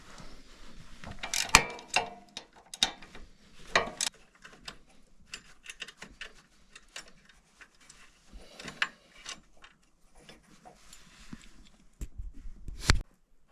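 Ratchet loosening 13 mm bolts from the belt guide of a snow blower, giving faint, close clicking and ticking in irregular runs with occasional sharper metallic knocks and clanks, quiet throughout.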